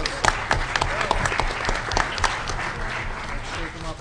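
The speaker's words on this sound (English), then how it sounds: "All right, round of applause." An audience applauds at a DEF CON hardware panel about building devices with FPGAs, loud close clapping with a few sharp individual claps, and voices and cheers mixed in.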